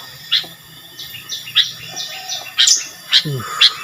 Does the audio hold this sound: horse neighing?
no